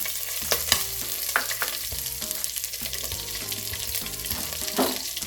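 Cardamom, cumin and green chillies fry in hot oil while being stirred, with a steady sizzle broken by scraping, clinking strokes of a spoon against the pan, fairly close and without talk.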